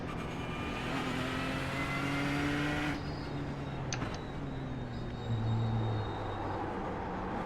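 A Ford race car engine in the iRacing video game drones steadily at a sustained pitch, with a brief shift midway and a rising tone near the end, and no talk over it.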